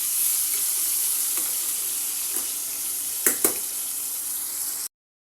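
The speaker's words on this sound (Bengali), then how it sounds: "এই যে উচ্ছেটা ভাজা হচ্ছে, উচ্ছেটা ভাজা বসিয়ে দিয়েছি। তেলে একদম পুরো ফ্রাই করে নেবো।" Bitter gourd fries in hot oil with a steady close sizzle, broken by a few brief clinks or stirring sounds near the end before it stops abruptly.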